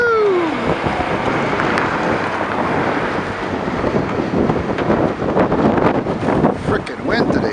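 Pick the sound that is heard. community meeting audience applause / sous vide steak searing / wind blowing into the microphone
wind blowing into the microphone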